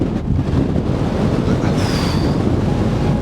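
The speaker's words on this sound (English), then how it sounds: "it's a bit windy for this" Gusty wind buffets a microphone on a snowy hillside near the top of a hill above the Forth Valley by Stirling, a loud, continuous roar and rumble with no voices.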